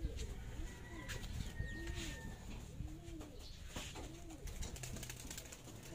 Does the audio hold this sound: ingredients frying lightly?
no